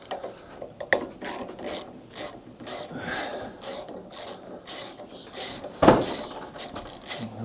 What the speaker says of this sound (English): we're going to try and get in there and loosen off carby bolts